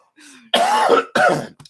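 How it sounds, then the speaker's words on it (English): Two harsh, throaty coughs in quick succession, close and loud, preceded by a faint murmur and followed by a brief rasp. "I'm sorry for coughing so much."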